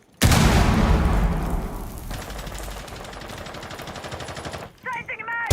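In Rainbow Six Siege, a frag grenade goes off with a sudden heavy blast, followed by a long stretch of rapid, rattling automatic gunfire. A few sharp bursts close the sequence.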